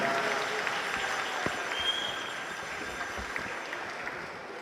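A live audience at the Cork Rathayatra festival in Ireland applauds a young child performer on stage, a steady wash of clapping that fades slowly across the clip.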